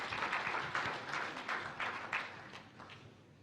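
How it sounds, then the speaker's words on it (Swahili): An audience applauds at an official ceremony for World Press Freedom Day attended by the president, a dense, steady patter of many hands clapping that slowly fades. "Makofi tafadhali"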